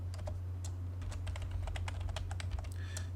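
Keys clack on a computer keyboard while a shortcut for the AutoCAD hatch command is typed and Enter is pressed, a series of crisp, close taps at irregular intervals over a steady low hum.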